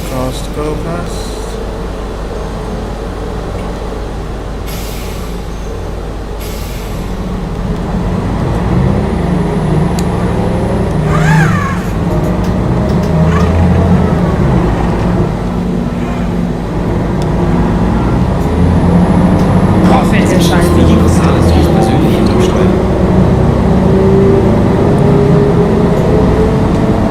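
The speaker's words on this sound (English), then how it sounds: "Just love the sound of that ZF gearbox" Bus engine driven through a ZF gearbox in a bus driving simulator, a steady low drone that swells in the second half as the bus pulls away and gains speed, with brief clicks and tonal whines over it.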